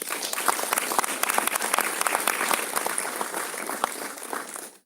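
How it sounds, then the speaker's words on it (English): An audience gives two gentlemen a round of applause, with many hands clapping steadily and fairly close, with some individual claps standing out, and the sound fades near the end. "I think we can offer these two gentlemen a round of applause"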